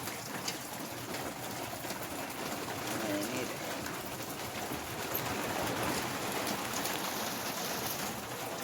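Heavy rain pours down steadily at night, a dense, even hiss of drops striking surfaces that holds at a constant loud level from start to finish.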